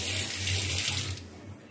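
Tap water runs steadily into a frying pan sitting in a kitchen sink, a continuous close splashing and rushing that eases slightly toward the end.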